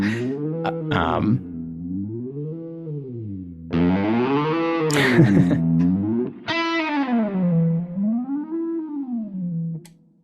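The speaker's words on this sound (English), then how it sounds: "I'm ramping up our pitch to an octave up" A Quad Cortex pitch effect ramps a distorted, synthetic tone up to an octave above. The pitch wavers in slow sweeping cycles across several sustained phrases, loud and processed, with brief gaps between them and no talk.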